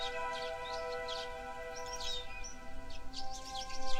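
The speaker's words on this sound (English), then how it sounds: "there's like birds singing in the distance" Birds sing in the distance, faint chirps and tweets scattered over a steady tonal hum, with a low rumble growing toward the end.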